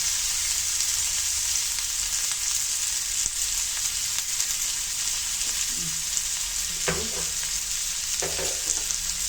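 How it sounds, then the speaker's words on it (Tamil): Curry leaves, green chilies and salt sautéing in a pan for an egg gravy, a steady bright sizzle throughout with a few faint stirring knocks near the end, no voices. "எல்லாத்தையும் உப்பு போட்டு நல்லா வதக்கலாம்"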